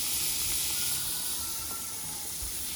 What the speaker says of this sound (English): Now we're gonna take our vegetables. We're gonna put it in the pot. Watch the steam, not burn your hand.